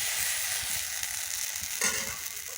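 A ladle of spicy semolina batter for chitoi pitha hits a hot oiled pan and sizzles with a bright, steady hiss, swelling briefly in a sharp crackling burst near the end; no voices.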